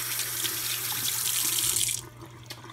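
Tap water runs steadily into a sink as a measuring cup is rinsed in a kitchen, a close, even splashing that cuts off near the end and leaves only quiet room sound.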